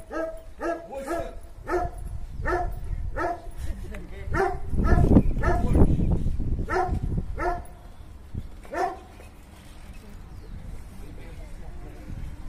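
A sheep dog on a New Zealand farm barks in a steady run of loud, close barks, then pauses and gives a few more scattered barks. Someone speaks over and between them.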